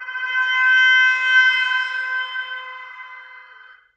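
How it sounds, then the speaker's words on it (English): Time-stretched recording of a horn blown in a parking lot, a steady loud tonal blare with rich harmonics that swells briefly, holds for several seconds and then fades out, alone. "it still sounds essentially like a horn being blown in a parking lot somewhere"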